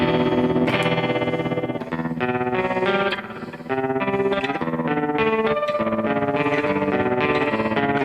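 Electric guitar runs through a Strongly Worded Letter effects pedal at its fastest speed, a rapidly warbling, distorted modulated tone sustaining loudly and continuously with a brief dip in the middle.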